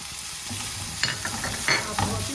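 Onions fry in a pan with chili powder, pepper and salt, a steady close sizzle broken by a few scraping stirs of a spoon.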